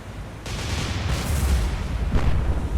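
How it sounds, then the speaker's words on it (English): Warship guns firing in the naval video game War On The Sea, a loud rumbling blast that swells into sustained booming, heard on its own with no talk. "Fire the guns!"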